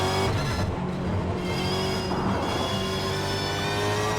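A Supercars Super2 Series race car at the 2020 Melbourne round, its engine droning at a steady pitch as it cruises toward the finish line, close and continuous with a faint tyre scrub.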